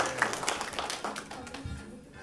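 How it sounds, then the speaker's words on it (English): An audience at a game show claps for the camera crew, a quick patter of clapping that trails off quickly, with talk mixed in. "How about a round of applause for our camera people out there?"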